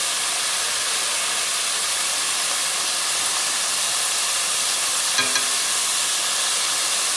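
Faworki, the thin fried pastry strips known as angel wings, sizzling in hot oil with a loud, even, continuous hiss and a small bubbling pop near the end.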